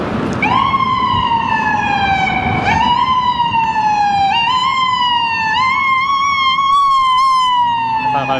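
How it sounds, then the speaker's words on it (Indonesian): A wailing ambulance siren on a New York street, loud and continuous with rising and falling sweeps, traffic rumble underneath. "Kalau kalian bisa lihat tuh ambulans."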